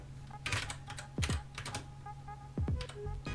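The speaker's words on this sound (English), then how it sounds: "Just trying to make sure I don't hit caps lock. I'm not good at typing." Typing on a computer keyboard while entering commands for a Minecraft Bedrock scoreboard timer: short bursts of close, crisp key clicks with pauses between them, and a faint hum underneath.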